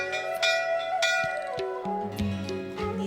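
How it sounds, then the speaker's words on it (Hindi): A small girl rings a temple bell in Nepal, bright metallic strikes ringing out several times and overlapping into a sustained tonal shimmer. "नेपाली नन्ही सी बालिका द्वारा घंटी बजाने का दृश्य हमारे हृदय को स्पर्श कर गया"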